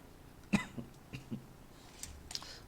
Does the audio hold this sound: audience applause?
no